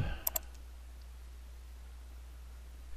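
Two quick, crisp computer mouse clicks close together at the very start in a quiet room, followed by near silence and one faint click at the end.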